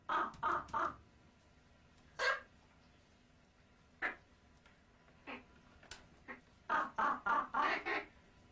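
Young hand-raised ravens in an Austrian valley nature reserve give harsh caws, first a quick burst of three, then scattered single calls, then a rapid run of four or five, all fairly faint.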